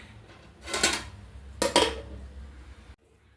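A metal lid clanks down onto a pot of beef in a home kitchen, two bright knocks about a second apart with a short ringing tail, then quiet.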